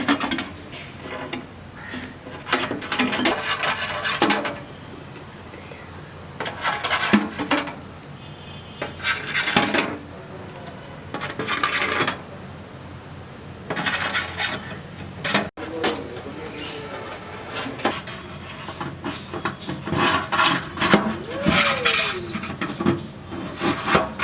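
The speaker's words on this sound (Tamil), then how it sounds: "இப்போ வந்து நம்ம கம்பி இன்செர்ட் பண்ணிடலாம்." Metal wire is pushed and scraped through drilled holes in a small homemade oven, giving irregular bursts of close, gritty rubbing and rasping with short pauses between them.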